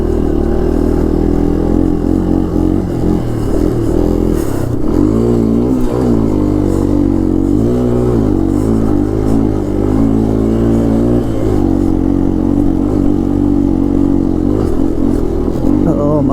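Yamaha Tri-Moto 200 three-wheeler on knobby Dunlop tires ridden through spring snow, its engine droning steadily and loud throughout with rising and falling revs, close and continuous.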